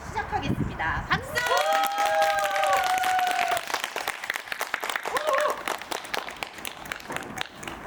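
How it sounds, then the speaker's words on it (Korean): Applause breaks out at the start of a small live Korean performance, following a woman's brief spoken cue; many hands clap steadily and fairly close, then thin out as singing begins. "박수!"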